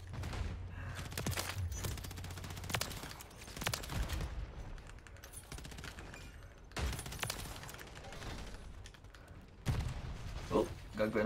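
Gunfire in a hardcore Call of Duty Kill Confirmed match on the Shipment map, with repeated sharp bursts and single shots in dense clusters separated by brief lulls, mixed with clanking game sounds and talk.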